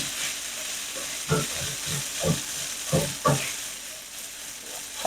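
Tater tots fry in a pan under a broadband sizzle, with several louder stirring scrapes and knocks at irregular intervals; no one speaks.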